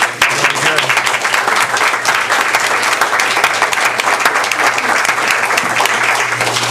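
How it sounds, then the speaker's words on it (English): Loud, steady applause from an audience at a school board meeting honoring honor roll students, dense clapping filling the whole stretch without pause. "that all deserves a round of applause."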